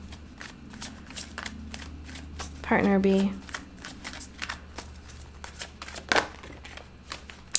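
Tarot cards being shuffled by hand, a quick run of soft riffling flicks with a sharper burst near the end, heard under a voice speaking.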